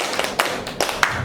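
A group claps hands in rhythm during a teachers' training session, about half a dozen sharp, fairly close claps in a patterned beat with no talking.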